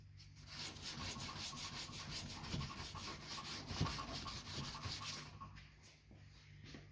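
Hand sanding of CRE321 epoxy primer on a 1980 Suzuki GS750 motorcycle gas tank, a steady rhythmic back-and-forth rasp of paper, close and continuous, fading slightly near the end.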